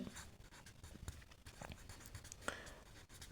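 Pen or chalk strokes write out a math problem statement in a quiet room, soft, close and irregular, with faint scratchy bursts.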